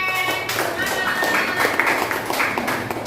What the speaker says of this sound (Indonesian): Beri tepuk tangan untuk kelompok Loren